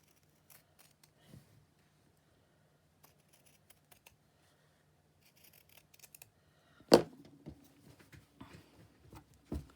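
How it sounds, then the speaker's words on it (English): Scissors cutting: sparse, quiet snips at first, then a sharp close snip followed by a run of rhythmic cutting sounds with no talking. "Now, might help if I use my good scissors."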